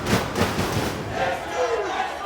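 A wrestling crowd at a Ring of Honor event roars steadily, with massed cheering and shouting swelling in waves, loud and continuous throughout.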